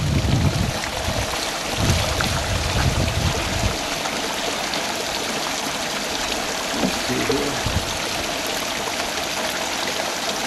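Water running steadily through a Keene's 160 dry and wet washer, a constant rushing stream with a few low thumps early on, loud and unbroken throughout.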